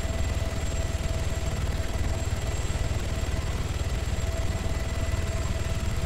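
A helicopter in the Arma 3 video game drones steadily with fast rhythmic rotor thumping and a high engine whine, continuous and fairly close, with no speech over it.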